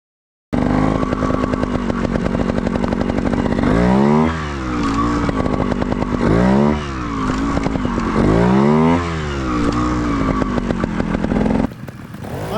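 A Sherco two-stroke trials motorcycle ridden over obstacles, its buzzing engine loud and close, revving sharply in repeated rising bursts between steadier stretches, with no talk.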